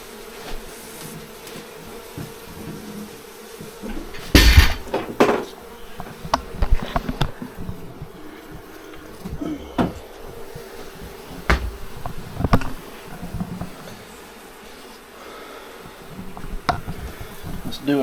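Honey bees being handled by a beekeeper at a hive, with a steady low hum of swarming bees through the clip, punctuated by sharp knocks and handling noises and occasional nearby activity.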